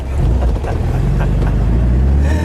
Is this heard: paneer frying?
no